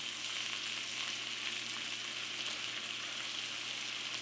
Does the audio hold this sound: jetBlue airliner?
no